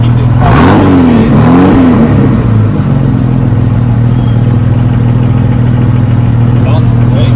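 A 4.2-liter engine with an added carburetor revs hard then settles into a loud, steady, rumbling idle, heard close up with a sharp rising blip at the start.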